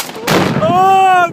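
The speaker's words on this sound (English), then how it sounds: "Fire in the hole! 50 pounds of tannerite." A single massive blast as 50 pounds of tannerite blows up a stove outdoors: a sudden loud boom that rolls off, followed by a person's sharp shout.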